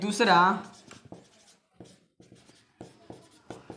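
A pen scratches out math working on paper in short, quiet strokes and taps, coming after a brief spoken phrase and continuing in sparse bursts with pauses between them.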